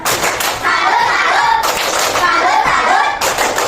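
A primary school class doing a tepuk salut clapping routine, with loud rhythmic group clapping in repeated bursts mixed with children's voices chanting along, close and lively.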